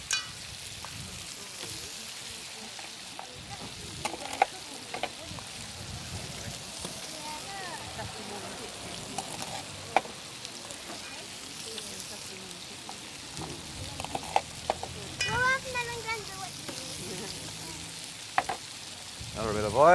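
Langoustines, Dublin Bay prawns, fry in oil in a pan at a harbour seafood demonstration. A soft, steady crackle of frying sits under quiet background activity, with a few sharper pops and clinks.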